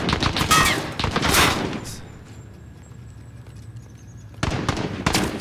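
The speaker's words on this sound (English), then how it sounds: "Taking fire over here." Gunfire in a video game shooter, with rapid bursts of loud shots at the start, a quieter stretch, then more shots near the end.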